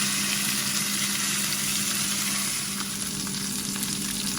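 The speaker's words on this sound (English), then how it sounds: "Okay, they're sizzling away." Pork chops frying in a pan, a dense, even sizzle with crackling spatters close by, steady for the whole stretch with a faint low hum beneath and no talking.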